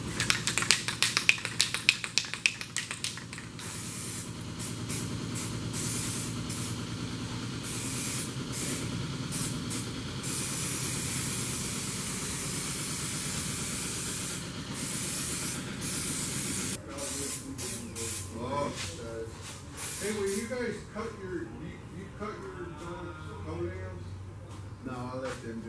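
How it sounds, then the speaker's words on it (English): Zinc weld-through primer hisses steadily from an aerosol spray can onto cleaned sheet metal of a Corvair front valance, a long continuous spray after a few clicks and taps, with someone talking over it near the end. "This is zinc. Weld through primer."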